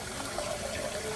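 Water pours steadily into a Carey electric canner for pressure canning, a continuous close gushing fill with no voices.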